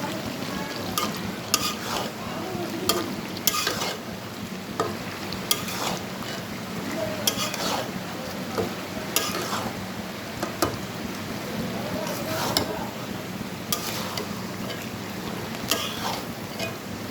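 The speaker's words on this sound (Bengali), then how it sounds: "জিরে গুঁড়ো দুই চামচ দিতে হবে দিব এখন গোড়া মরিচ দিবে হালকা হলুদের গুঁড়া বেশি দিতে হবে না হলুদ গুঁড়া খুব কম দিবে তো এখন একটু নেড়ে ছেড়ে নেবে" Ground cumin, chili and a little turmeric fry in oil in a pan while being stirred. A steady close sizzle runs under repeated, rhythmic scraping strokes of the spoon, with no talking.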